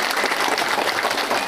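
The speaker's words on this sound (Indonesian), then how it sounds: "Tepuk tangan buat beliau" A crowd at a local political gathering applauds the village head, a dense, continuous burst of many hands clapping at close range.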